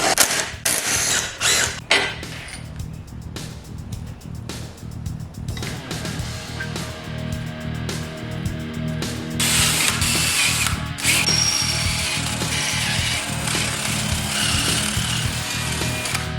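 Close-up ratcheting and clicking of hand tools removing a bicycle's handlebars, with repeated rapid clicks and scraping on metal fittings in a quiet room.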